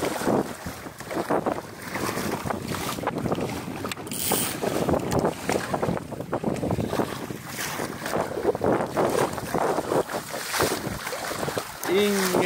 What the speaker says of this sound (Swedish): Det kommer lite mer vind.